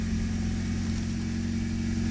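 An ED/EF-generation Honda Civic engine idling in neutral after a push-button start, a steady low hum close to the microphone, alone without talk.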